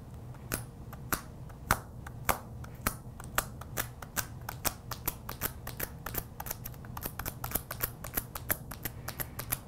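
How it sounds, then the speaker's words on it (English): Painter's tape wrapped around fingers is dabbed up and down over embossed gold foil on a notebook, giving a steady run of sharp, close, sticky taps and peels at a brisk, uneven rhythm. "we're gonna dab up and down and remove all the extra gold foil"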